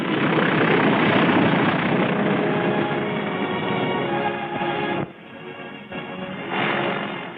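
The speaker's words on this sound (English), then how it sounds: "The first plane landed just 24 hours after the Seabees had started to work." A propeller plane lands on a freshly built airstrip laid down by Navy Seabees, its loud, steady roar filling the scene and dropping briefly near the end before swelling again.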